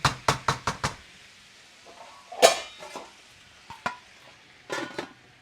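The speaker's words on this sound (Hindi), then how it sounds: "आलू को मैं जल्दी जल्दी काट लेती हूँ" Quick knife chops cut potatoes on a board, starting with a fast run of five sharp knocks, then a few scattered chops with softer handling sounds between them, close and clear.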